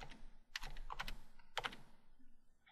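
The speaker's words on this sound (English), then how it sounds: "go ahead and type Alabama" Fingers tap out a short word on a computer keyboard, a quick burst of clicky keystrokes in two small clusters, close and quiet with no voice over it.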